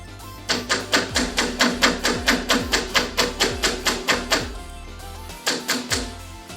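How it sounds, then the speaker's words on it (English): Rapid, even hammer blows ring out on metal being flattened for a jewelry pendant, a steady run of sharp clanks followed by a brief pause and a few more strikes. "So I'm hammering those out"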